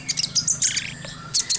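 White-rumped shamas (murai batu) chirp in quick, bright bursts, several clear whistled notes and tweets close by over a steady low background hum.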